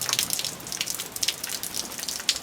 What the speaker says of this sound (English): Now the rains decide to come.